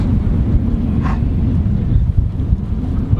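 Wind at 18 to 20 knots buffets a sailboat in the Bahamas, a loud, steady roar of gusts across the microphone with a low rumble of water underneath.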